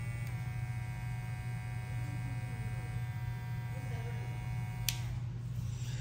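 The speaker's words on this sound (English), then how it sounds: "And then we have the all black clipper." An all-black electric hair clipper runs continuously close by, giving a steady buzzing hum with a brief click near the end and no talk.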